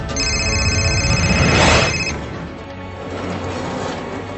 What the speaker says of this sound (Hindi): इस बीच नोएडा के निठारी के एक पीसीओ से हेमराज के मोबाइल पर एक फोन आया।